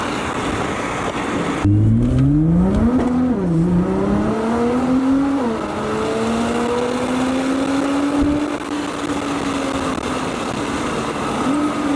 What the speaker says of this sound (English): Ooh, that downshift.